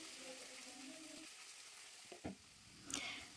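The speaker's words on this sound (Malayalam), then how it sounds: "കടുക് ഇട്ടതിന് ശേഷം നമ്മൾ നേരത്തെ കട്ട് ചെയ്ത് വെച്ചിരിക്കുന്ന ചീരയും ആ ഒരു വറവുണ്ടല്ലോ അത് ആ പച്ചക്കറി ഇതിലിട്ടിട്ട് വറുത്തെടുക്കാം" Spinach tossed into a mustard seed tempering sizzles faintly in a hot pan during home lunch cooking, with a couple of brief clatters near the end.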